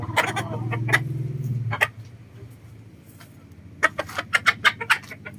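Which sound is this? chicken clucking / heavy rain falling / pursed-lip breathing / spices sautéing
chicken clucking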